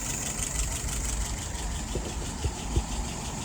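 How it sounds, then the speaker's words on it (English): A car engine idles steadily at about 650 rpm with a low rumble, a few soft knocks and taps standing out near the end. "Right now, idling at about 650, 660."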